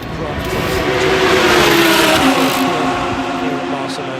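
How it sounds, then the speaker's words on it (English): Race cars at the Barcelona circuit in a 24-hour race, engines howling loud and close as they pull up through the gears past the kink at turn 9, with a commentator talking over the roar. "cars through the kink at 9, pulling through the gears now."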